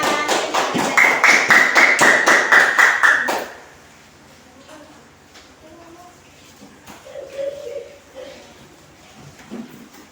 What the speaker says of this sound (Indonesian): Ya, kita berikan tepuk tangan untuk kelompok kinestetik.